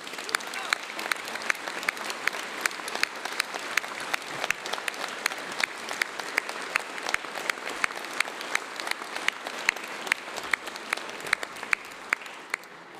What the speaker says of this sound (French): je vous propose qu'on applaudisse nos agriculteurs pour tout le travail qu'ils font au quotidien